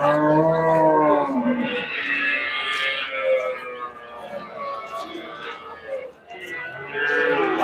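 Cattle at a livestock market in Melapalayam, Tirunelveli, with bulls lowing loudly and close by in long harmonic calls, overlapping with market bustle and nearby talk.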